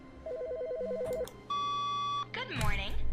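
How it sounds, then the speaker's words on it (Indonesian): Electronic telephone ringing in the video game The Stanley Parable: Ultra Deluxe, a warbling two-tone trill followed by a steady beep tone, then a voice begins speaking. "Kok ada telepon?"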